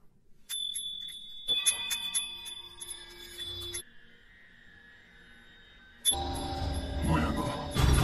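A bell rings out in a tense horror film scene with sustained bright metallic tones, then a lower lingering hum and a sudden loud burst of clanging, all close and without voices.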